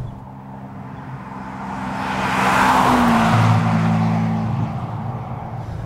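Manual Ferrari 456 GT V12 from 1996 rising through a single rev, swelling in loudness toward the middle and easing off, with steady low engine harmonics close by and no talk.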